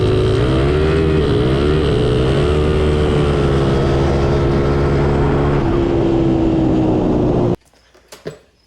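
A Honda CRF100 dirt bike racing with a nitrous kit engaged, its engine howling loud and sustained with pitch rising and dipping through the gears, then cutting off abruptly near the end, leaving faint background noise.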